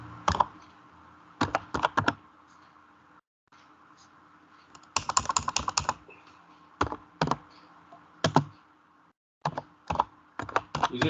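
Typing on a Logitech K120 keyboard, with bursts of rapid close key clicks separated by short pauses over a low steady room hum.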